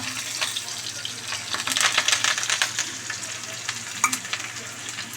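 Whole spices and onion hit hot oil in a pan for a chicken fry and mutton curry, crackling and popping densely, loudest in the first seconds, then settling into a steady close sizzle.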